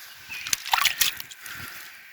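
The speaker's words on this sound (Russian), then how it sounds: "Сюда наливаем. Она сразу же стекает." Water is poured onto the matte half of a hydrofoil wing and runs straight off, a brief close splash and trickle of about a second over quiet background.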